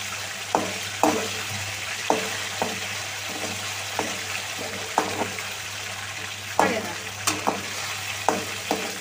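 Chicken kebab fries in oil with a constant sizzle, broken by repeated sharp clinks and scrapes of stirring at an irregular pace, close and moderately loud.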